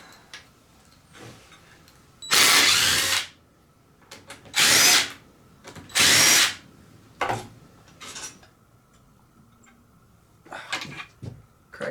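A power tool, likely an impact driver or drill, loosens the main bolts on an engine case in three loud sustained bursts, followed by several shorter, quieter whirs close by.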